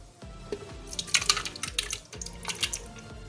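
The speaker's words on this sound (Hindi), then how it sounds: "अब हमने इसमें दही डाल देना है।" Thick yogurt pours into a blending jug of ice cubes with soft, wet splats and drips close by, rising in brief clusters over a quiet kitchen background.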